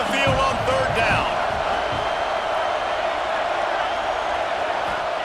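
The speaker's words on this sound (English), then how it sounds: "Here comes this home crowd as the defense tries to get off the field on 3rd down." A home crowd at a Michigan college football game roars loudly and continuously as the defense faces third down, a dense, steady wall of cheering.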